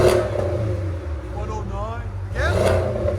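A 2017 Porsche 718 with a 2.0L turbo engine and aftermarket cat-back exhaust idles with a steady low rumble, then blips up twice in sharp revs near the start and end, close and loud.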